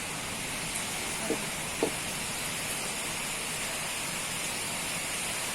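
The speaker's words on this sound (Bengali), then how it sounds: "বাইরে বৃষ্টি পড়ছে" Rain falls outside a home kitchen as a steady, even hiss with no other sounds, broken only by a couple of faint, brief knocks.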